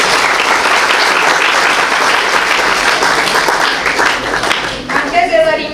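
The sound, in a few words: applause for a speaker at an event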